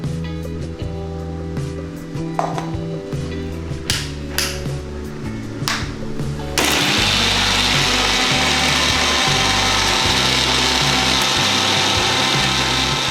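A mixer grinder grinding a paste whirs steadily, starting with intermittent bursts and clatter, then running continuously at a loud, even drone.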